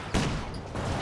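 Anti-tank guns fire in Company of Heroes 2, two heavy, close shots with a rumbling tail, the second arriving near the end.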